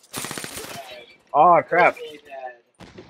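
Rapid gunfire bursts from the video game Call of Duty: Black Ops 3, loud and close, mixed with a player's excited speech and exclamations.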